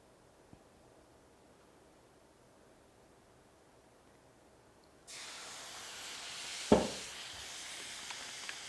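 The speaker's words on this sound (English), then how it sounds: "to our hot pan already, we're going to add in a tablespoon of Worcestershire sauce" Worcestershire sauce hits a hot skillet of beef and vegetables, bursting into a loud, steady sizzle that starts abruptly partway through after a quiet lead-in, with a sharp splatter spike as it spreads.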